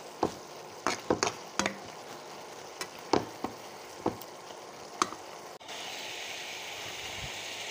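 Turmeric-laced spice paste for a puti fish curry being sautéed in a pan, with scattered sharp clinks and scrapes of stirring over a low sizzle that swells into a steady, louder frying hiss near the end; no talking.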